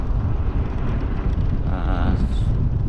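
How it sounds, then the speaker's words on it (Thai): Cool wind blowing steadily across a microphone along a concrete riverside path by the Mekong in Laos, a continuous loud rushing roar with no break. "ลมเย็นลมพัดเย็นสบายเนาะ"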